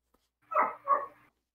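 A dog gives two short, close barks with a whiny, whimpering edge, loud against an otherwise quiet room.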